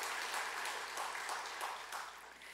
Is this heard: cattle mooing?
no